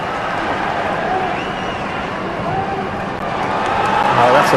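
Stadium crowd at an Indonesia vs Thailand football match: a dense, constant roar of thousands of voices with scattered cheers, swelling slightly toward the end, with a commentator talking over it.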